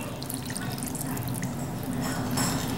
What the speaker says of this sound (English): pour the wet stuff over it